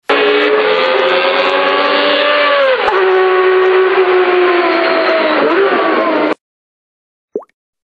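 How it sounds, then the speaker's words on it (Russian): A cartoon racing car's engine revs loud and close for about six seconds, its pitch dipping and rising with gear changes, then stops sharply, followed by one short blip. "Гоночный автомобиль."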